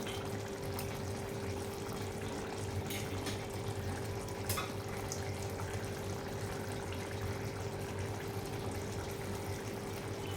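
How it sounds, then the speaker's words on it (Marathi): Water from chili thecha crushed in a stone mortar is poured into a cooking pan for kharda chicken, giving a continuous dense hiss and sizzle under a low steady hum, with no talking. "मी ते पाणी टाकून घेते मी आता यात."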